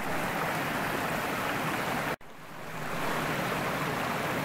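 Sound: waterfall cascading down into the Meuse river

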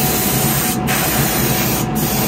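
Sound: paint being sprayed during a spray session

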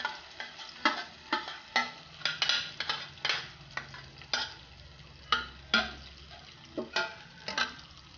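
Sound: grated carrot mixture poured into pan

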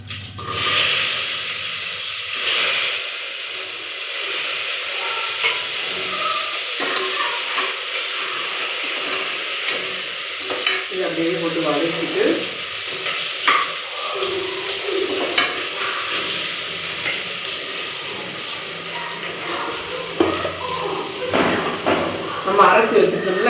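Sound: small onions, big onion and green chillies sautéing in a pan

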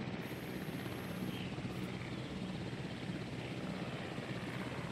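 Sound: helicopter transporting a dinosaur in Jurassic World Evolution video game

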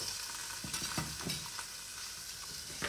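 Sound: vegetables frying on bacon in a pan

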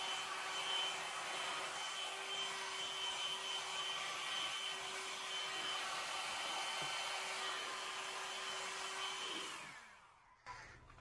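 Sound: blow dryer running on high

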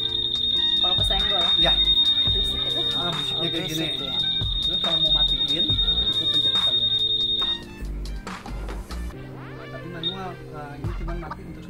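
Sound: motorcycle security alarm beeping

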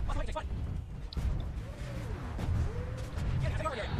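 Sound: explosions and gunfire in a battle, from a video game

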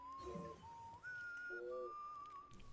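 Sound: Sam whistling to BB in video game Death Stranding

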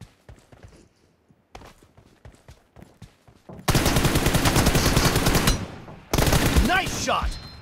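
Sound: M416 rifle gunfire in PUBG Mobile video game

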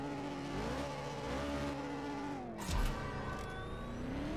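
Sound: car engine revving in a drag race, CSR2 video game

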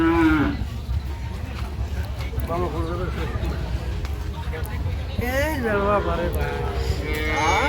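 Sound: cow and calf mooing at a cattle market

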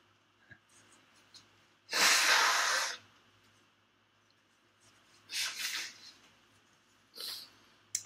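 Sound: person blowing their nose

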